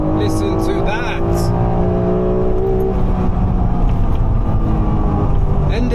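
A 1991 Honda NSX engine drones loudly and steadily from inside the car after a shift down to first gear, with someone speaking over the noise.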